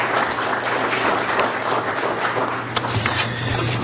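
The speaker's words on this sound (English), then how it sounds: "Let's give her a round of applause" Audience applause at a local business marketing event in Arizona, a steady dense wash of clapping from a crowd, fairly loud and sustained throughout with no talking over it.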